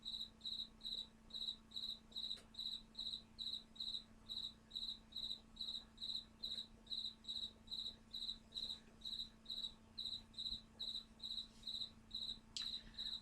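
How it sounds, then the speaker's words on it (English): A cricket chirps outside a garage in a regular, evenly spaced series of short, high trills repeating roughly twice a second, faint but clear over a quiet background with a low steady hum. "Yeah, I have a noisy cricket."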